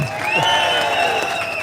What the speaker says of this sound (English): we'll give a big cheer for all the speakers